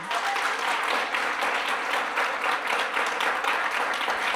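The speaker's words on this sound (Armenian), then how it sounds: "որքան հնարավոր է բարձր ծափահարի դուրս" A church congregation applauding loudly, dense sustained clapping from a large crowd filling the space evenly throughout without pause.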